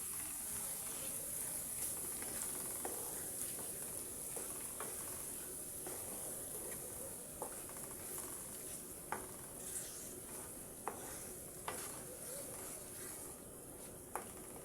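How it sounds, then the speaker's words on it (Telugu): A Telugu onion-chilli paste for spinach curry sizzles steadily in a pan on low heat, with a spoon scraping and stirring through it and occasional sharp clinks against the metal; no one talks. "ఈ ఉల్లికారాన్ని మనం పచ్చివాసన పోయేంత వరకు బాగా ఫ్రై చేసుకోండి"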